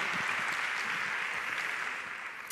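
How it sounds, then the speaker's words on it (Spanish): An audience at a library conference talk applauds, steady close clapping that holds evenly before tapering slightly at the end. "Ahora sí, este aplauso para Diego."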